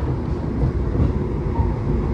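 Argo Cheribon economy passenger train running at high speed, above 110 km/h, through Cikampek station; a steady, loud low rumble of wheels and carriage noise fills the interior without pause.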